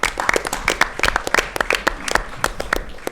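A small room at a school board meeting breaks into applause, a scattered run of individual hand claps at close range, fairly sparse and uneven, with no talk over it.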